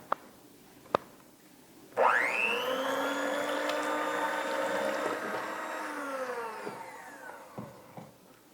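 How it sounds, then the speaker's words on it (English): A hand mixer whisks eggs with vanilla extract, a few sharp taps first, then the motor spins up into a steady high whine that holds for several seconds before winding down, close and alone. "with my hand mixer, I will just whisk the eggs until they're nice and frothy"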